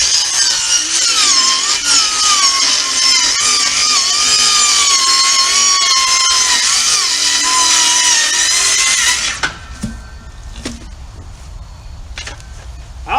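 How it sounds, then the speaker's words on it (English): A hand saw cuts off excess wood, a loud, close, rasping stroke that runs steadily for about nine seconds before stopping, followed by a few faint knocks and handling sounds. "I'm going to start by cutting the excess wood off."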